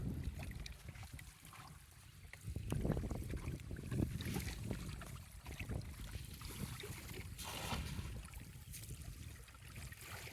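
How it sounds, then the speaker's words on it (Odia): Strong gusty wind at a riverside at night during net fishing, buffeting the microphone in broad roaring surges that rise and fall, with faint low water and boat sounds beneath. "ଏଡେ ଜୋର ପବନ ଦଉଛି ଆଉ"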